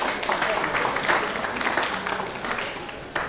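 Applause from a convention audience of Ogbomosho sons and daughters in the diaspora, welcoming the Atlanta chapter president; dense, steady clapping from a large crowd that holds for the whole stretch, fairly close and loud.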